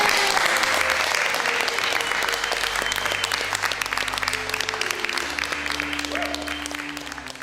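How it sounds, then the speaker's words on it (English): The cast and crew of the Rome television series break into sustained applause on set, dense clapping from a sizeable group that holds steady for several seconds, with a few voices and murmurs mixed in. "Want to give yourselves a round of applause?"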